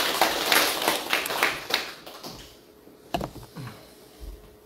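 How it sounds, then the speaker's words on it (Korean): Members of a rural church congregation at a Parents' Day Sunday service give a short burst of applause that fades quickly, followed by a few scattered claps and taps. "박수를 올려드리시겠습니다."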